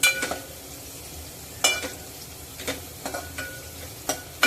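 Ground green chilli paste and garlic sizzle in hot oil in a pan with a low steady fry, punctuated by several sharp stirring scrapes and clinks spaced unevenly throughout, close up with no talking.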